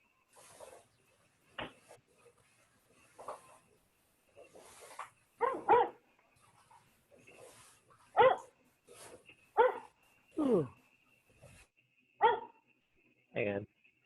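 A dog barks in sharp, separate bursts spread across the stretch, fairly close and alone, a few yips mixed in, while an exercise class carries on and a person speaks now and then between the barks.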